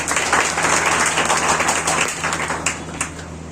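A crowd claps loudly and continuously, a thick wash of many hands applauding, with a few sharper claps standing out near the end.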